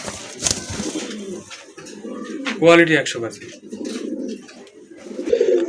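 Several pigeons cooing close by in low, rolling bursts, heard beneath someone talking throughout.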